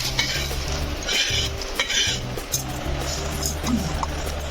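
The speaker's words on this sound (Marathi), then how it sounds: "मी तेल टाकून मसाला भाजून घेणार आहे।" Masala roasts in oil in a pan on a gas stove for a village-style gavar bhaji. Steady sizzling and frying runs under repeated scraping and stirring strokes, heard close.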